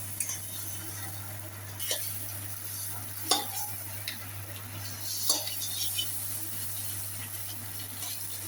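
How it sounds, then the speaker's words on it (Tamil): Whole eggs shallow-fry in oil in a pan for Tamil egg varuval, giving a continuous hissing sizzle with a few scraping stirs and utensil clicks against the pan, plus a low steady hum underneath. "ஷாலோ ஃப்ரை பண்ணுறோம்"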